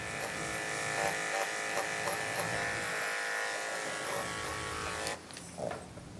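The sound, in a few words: electric dog grooming clippers buzzing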